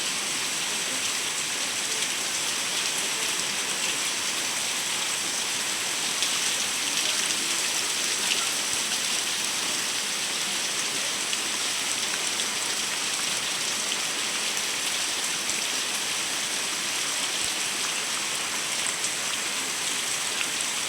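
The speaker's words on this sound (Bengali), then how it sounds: "অনেক জোরে বৃষ্টি নামছে, হঠাৎ করে বৃষ্টি নামছে।" Heavy rain pouring down suddenly at midday, a steady, dense, unbroken hiss of drops on surfaces that stays loud and even throughout with no voices.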